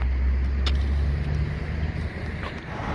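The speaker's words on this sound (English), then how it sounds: "More trucks. Busy road." Continuous traffic roar from the I-81 highway near Carlisle, Pennsylvania, with heavy trucks passing; a deep engine rumble and tire hiss holding steady close by, swelling slightly as a vehicle goes past.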